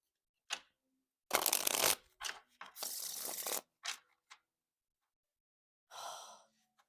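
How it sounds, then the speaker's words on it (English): A small tarot card deck being shuffled in several close, crisp riffling bursts separated by short pauses, with a final softer riffle near the end. "I love to be able to shuffle decks for a period of time"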